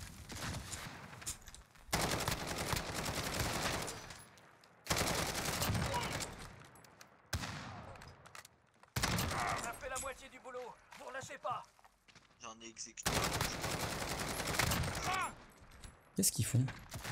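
Gunfire in a Call of Duty match, with loud bursts of automatic rifle fire in several long volleys separated by short pauses and quieter stretches, close and dominant.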